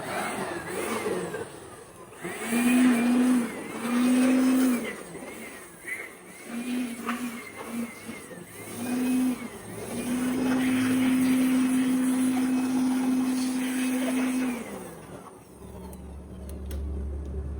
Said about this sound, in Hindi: हमारा हवा मार लेनी चाहिए बलोर से, इससे जो भी पानी वगैरह है वो अच्छी तरह निकल जाएगा